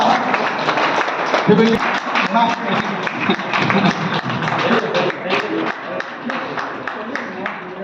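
Applause at a civil defence meeting in honour of the chief, dense steady clapping filling the whole stretch, fairly loud, with a voice talking over it at times.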